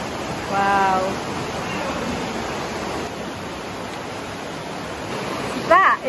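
Steady rushing water flows continuously from a spring at moderate volume, with a brief voice near the start and a short exclamation at the end.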